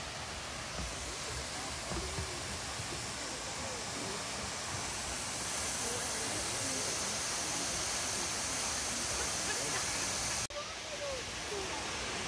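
Steady broadband roar of the waterfall on Munising Creek in Upper Michigan, continuous and fairly loud, heard from a viewing platform with no voices, briefly dipping near the end.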